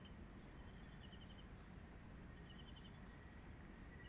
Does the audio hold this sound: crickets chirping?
yes